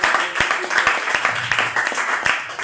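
A church congregation applauding in praise, a dense wash of many hands clapping at a steady loud level, with a few voices calling out underneath.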